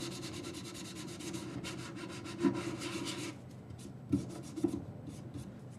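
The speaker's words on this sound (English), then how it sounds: "Sand that a little bit." Hand sanding on a dumpster's metal surface, a steady close scraping rub that runs continuously, with a few louder scuffs partway through before it eases off toward the end.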